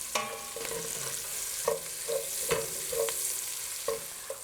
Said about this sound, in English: just watch your onions and garlic as they're cooking